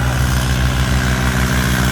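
A tractor engine runs steadily at a village trolley-pulling competition in Matti, rumbling low and continuous close by with a slight pulsing throb, no voices over it.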